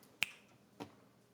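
Two sharp finger snaps about half a second apart, crisp and close, in an otherwise quiet room with no talking.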